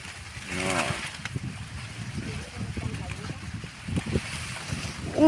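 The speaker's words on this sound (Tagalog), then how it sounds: "Uy, may hangin guys." Gusty wind in a cornfield rumbles and buffets the microphone, with low flapping noise and faint voices mixed underneath.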